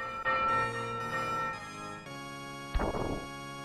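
A bell rings in the video game Demon's Crest, two soft chiming strikes followed by a brighter, louder clang near the end, each tone ringing on with sustained metallic harmonics over game music.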